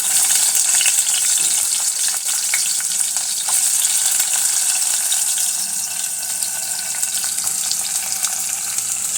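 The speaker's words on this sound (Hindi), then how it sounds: "घी डाल दिया है पैन में। अब इसमें जाएगा जीरा, अब ये प्याज जाएगा।" Cumin and onion fry in hot ghee in a pan, a dense, steady, close sizzle that hisses on without a break, with faint stirring scrapes mixed in.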